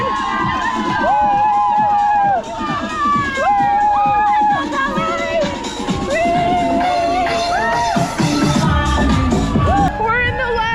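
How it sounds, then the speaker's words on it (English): Crowd cheering at a half marathon cheer station, with loud whoops, shouts and rising calls close by amid continuous crowd noise. "About to go through another cheer station."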